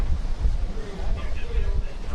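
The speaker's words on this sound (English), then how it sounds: "Quite windy." Wind blows at an outdoor rowing race, giving a steady low rumble of buffeting gusts across the microphone throughout, with no clear words.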